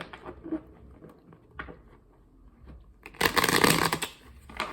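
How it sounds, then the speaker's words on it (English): Soft papery riffling and tapping of tarot cards being shuffled, building to a louder burst of shuffling near the end; close and fairly quiet. "So I'm going to shuffle the decks."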